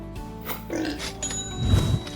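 Fattener pigs on a farm grunt and oink close by in a short burst of low, rough snorts, with the loudest grunts near the end.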